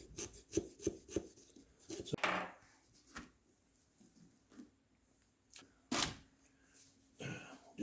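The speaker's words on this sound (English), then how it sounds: "So we have saws that are specific for cutting the bottom." A pumpkin carving saw cuts into the bottom of a pumpkin with short irregular scraping and rasping strokes, close and quiet, separated by brief pauses.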